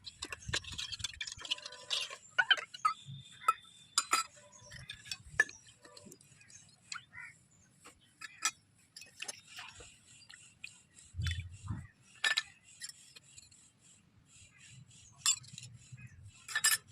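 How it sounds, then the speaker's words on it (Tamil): Miniature toy dishes and utensils being washed, with scattered light clinks, scrapes and brushing sounds at irregular intervals, close and small-scale, with occasional soft rubbing. "ஒரு வழியாக ஜாமானை கழுவி முடிச்சாச்சு."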